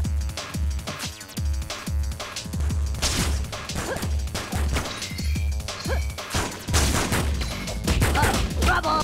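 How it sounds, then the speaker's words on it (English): Gunfire in a gunfight from the video game Spider-Man 2 on GameCube, rapid crackling shots mixed with crashes and thuds over a steady rhythmic music bed, loud and busy throughout. "There's some kind of gunfight happening over there."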